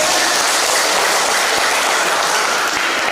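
Loud, dense audience applause fills a hall at a church choir competition during an Easter camp in Gandangbatu, a continuous roar of many hands clapping for a jury member with no talk over it.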